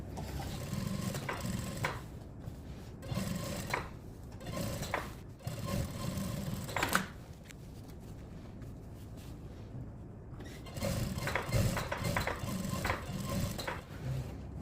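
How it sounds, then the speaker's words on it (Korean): Sewing machine running a double row of topstitching on a denim jacket: repeated bursts of steady mechanical whirring and needle chatter, stopping and starting in short runs, close and moderately quiet with no talk. "스티치 두 줄 놓습니다"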